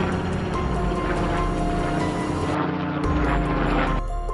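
A loud, steady helicopter rotor drone with a thick low-end throb, continuous throughout with a brief dip in the middle.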